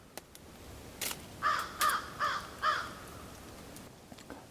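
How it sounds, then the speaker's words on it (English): Four harsh caws from a crow in steady succession, moderately distant, against a faint outdoor background with a few soft clicks. "Hear the crows?"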